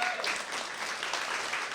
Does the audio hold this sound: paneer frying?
no